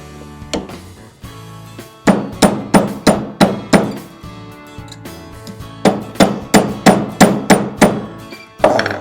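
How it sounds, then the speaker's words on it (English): Metal bracelet ends are hammered into a urethane former from a Bonny Doon synclastic bracelet kit, a close series of sharp, evenly paced blows in two runs of about eight strikes each, with a brief pause between them. "what I'm going to do now is hammer those 2 ends."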